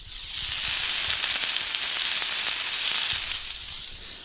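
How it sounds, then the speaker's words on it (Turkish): A steak sizzles loudly and steadily in a hot cast iron pan, a dense crackling hiss that rises and fades slightly at the end. "Tavamızda etimiz pişiyor."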